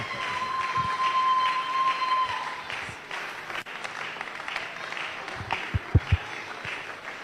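Audience applause and acclamation greeting an apostle and rector as he is invited forward at a church gathering, a steady dense wash of clapping with a few sharper claps near the end.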